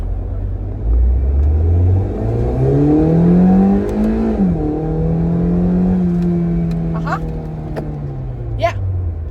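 A Mazda NC Miata sports car engine rises in pitch as it accelerates through the gears, loud and close, with a brief dip at a shift before settling into a steady roar.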